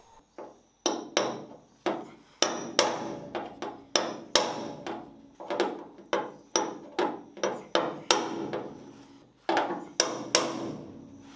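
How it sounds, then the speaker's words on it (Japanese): Repeated sharp metallic hammer blows strike a steel step panel on a Mazda RX-7 FD3S, about two per second in uneven bursts with brief pauses, loud and close. "ハンマーで少しへこませて、で、溶接で埋めて、穴を塞いでいきたいと思います"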